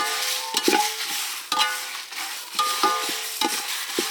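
Spices dry-roasting in a pan for a village-style country chicken curry, with repeated scraping strokes of a ladle about once a second over a soft sizzle.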